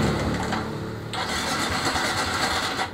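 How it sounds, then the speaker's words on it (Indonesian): Suzuki Smash motorcycle with a starting fault, its electric starter cranking close and loud as the engine sputters briefly without catching. "ini nggak nyala ya starter ya"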